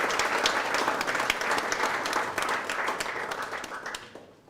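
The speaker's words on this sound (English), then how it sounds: "let's give a round of applause to Engineer Marawa" Audience applause at a project management conference in Zimbabwe, many hands clapping in a dense, steady patter at a moderate distance, holding throughout and trailing off at the very end.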